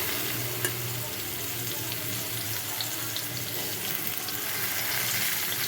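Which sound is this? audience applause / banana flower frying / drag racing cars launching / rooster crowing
banana flower frying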